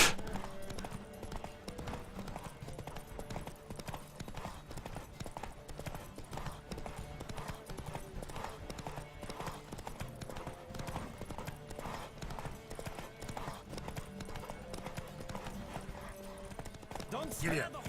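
Rhythmic hoofbeats of a horse galloping in a race in The Witcher 3 pound steadily throughout over game music, with someone talking over the action.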